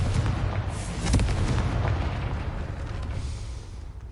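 A Confringo fire spell explodes in the Hogwarts Legacy video game: one heavy, deep blast with a rumbling low-end burst that slowly fades over a few seconds.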